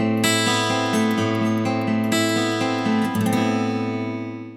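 Loud electric guitar riff with steady repeating picked notes over a sustained low drone, ringing out and fading at the end.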